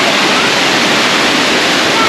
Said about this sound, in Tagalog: Ganda ng mga falls dito mga idol oh.